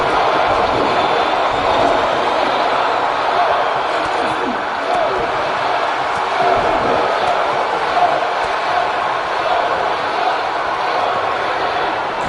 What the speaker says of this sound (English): Look at this sold-out crowd here in Match Vegas.